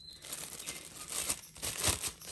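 Plastic bag crinkled by hand during a plant grafting session, a close, continuous rustling and crackling with sharper bursts near the end, heard alone without talk.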